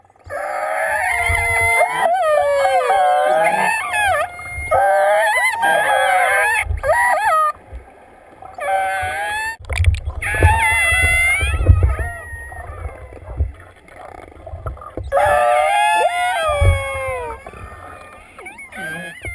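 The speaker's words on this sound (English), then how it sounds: "So what you're going to hear now are killer whales, or orcas." Killer whales (orcas) calling in a played recording: repeated high, rising and falling whistles and squeals in bursts, over a low watery rumble and sloshing background.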